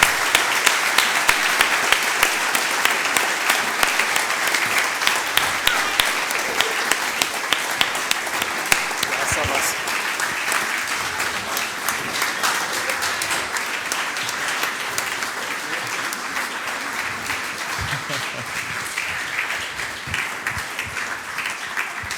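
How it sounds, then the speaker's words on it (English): Sustained applause from a large crowd at last year's T3DD16 event, dense and steady throughout, loud and unbroken with no talk over it. "So, this was last year's applause."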